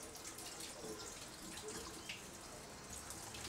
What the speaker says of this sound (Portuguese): Peguei na chave, então vamos lavar a chave também.